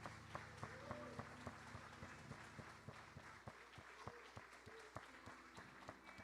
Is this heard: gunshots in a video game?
no